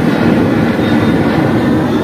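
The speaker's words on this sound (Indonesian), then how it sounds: "tuh ada pesawat juga tuh lewat tuh" An airplane passes overhead at night above a riverside fishing spot, a broad, steady rumble of engine noise sustained at moderate loudness, with no talking.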